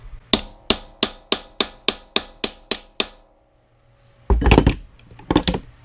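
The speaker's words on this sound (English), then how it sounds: "just shock the threads inside there just by hitting it with a hammer" Ten sharp, evenly spaced metallic hammer strikes on a stuck bolt of a Yamaha Grizzly Kodiak 450 ring out, then a pause before a couple of louder, heavier clanking blows.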